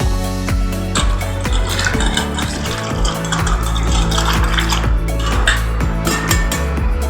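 A hand whisk churns yogurt drink (ghol) in a vessel, a loud, close, busy clattering and sloshing with steady rhythmic strokes and a few periodic knocks, no talk.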